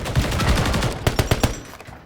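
Gunfire in Call of Duty: Modern Warfare 3 Search and Destroy, a dense rattle of rapid shots followed by several distinct single cracks in quick rhythm, loud and close with no talking.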